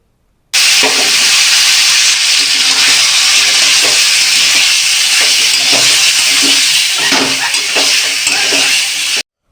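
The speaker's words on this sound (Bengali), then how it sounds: "এবার সবজিটা ফোড়নে দিয়ে দিতে হবে।" Vegetables with stalks, ridge gourd and pointed gourd drop into a hot five-spice tempering and set off a sudden, loud, steady sizzling hiss that holds for many seconds, with faint stirring scrapes underneath.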